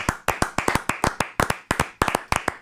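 Hands clapping in a quick, irregular burst of about two dozen sharp, close claps over a few seconds, heard alone with no voices.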